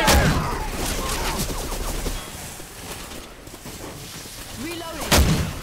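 Gunfire bursts in the zombie shooter Left 4 Dead 2, with a loud, dense stretch at the start, scattered shots after it and a strong bang near the end, while voices call out over the action.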